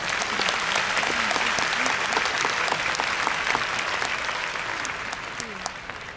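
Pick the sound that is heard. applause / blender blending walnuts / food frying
applause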